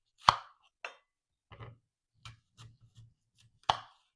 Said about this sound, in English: you're going to cut up your apple and or your orange